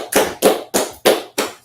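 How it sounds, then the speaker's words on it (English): Five loud, sharp claps in a steady, even rhythm at an Israelite School of Universal Practical Knowledge street gathering in Washington DC, struck in unison with no talking. "All right, let's clap it up."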